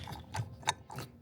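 A wrench ratchets to loosen the propeller on a Bottom Feeder 3.0 underwater drone, producing several quiet, close clicking bursts in an uneven rhythm.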